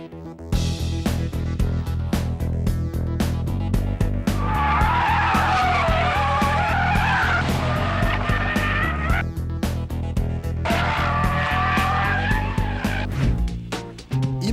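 A Ford Focus RS, Mazda 3 MPS and Honda Civic Type R are driven hard on a race circuit, with a loud, continuous engine roar climbing through revs and long squealing tire screeches through corners, no talking.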